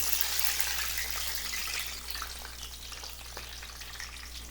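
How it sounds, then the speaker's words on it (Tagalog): Garlic sautéing in butter in a pan for seafood paella, a steady bright sizzle that is loudest at first and then settles to a softer crackling fry, close and continuous with no talk. "Okay, uh, magigisa na tayo. Okay po, magisa na po tayo. Uh, unahin natin itong butter."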